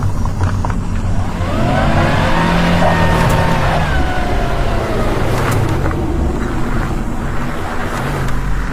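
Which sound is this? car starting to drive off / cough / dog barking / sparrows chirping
car starting to drive off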